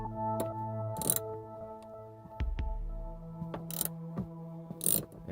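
A socket wrench with an extension loosens a screw on a Pontiac Fiero inner quarter trim panel, giving scattered clicking ratchet ticks and metallic knocks amid a low hum, close and fairly quiet.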